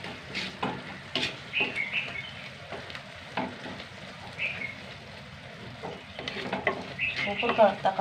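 A tomato curry is stirred as it fries in a pan: soft sizzling underneath with repeated scraping and clinking strokes of the spoon, close by, a few faint voice-like sounds in the background.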